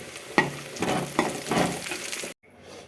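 Grated coconut is fried in a pan for a spicy sambar masala, giving a close, soft sizzle with several scraping stirs before it stops abruptly near the end.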